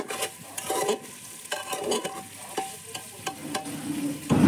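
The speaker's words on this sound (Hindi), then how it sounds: "चला लेंगे सभी सब्जी को हल्का सा।" A spoon stirs peas, tomatoes and mixed vegetables frying in a pan, giving repeated scraping strokes over a gentle sizzle that grows louder at the end.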